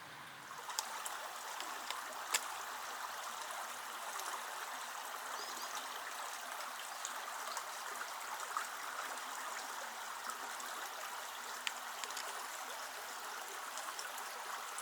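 The Brid River stream flowing beside a walking track at Bridport, a steady, even rush and trickle of water with faint ticks, heard alone and unbroken throughout.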